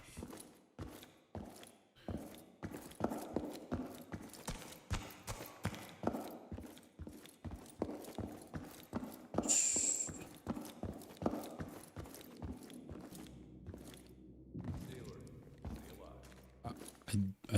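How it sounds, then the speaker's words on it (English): Enemy footsteps in a first-person shooter, heard as a long run of sharp, evenly spaced clip-clop-like thuds throughout, fairly close and prominent with some faint in-game noise in the background. "I do hear the footsteps of the enemies."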